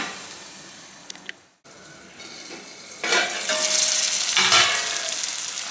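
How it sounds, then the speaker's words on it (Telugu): Onions for a cauliflower fry cook in a pan with a few light clinks at first, a brief drop to near silence, then a louder, steady frying hiss that swells near the end. "ఉల్లిపాయని ఒక 2-3 నిమిషాల పాటు మంచిగా మగ్గనివ్వాలి."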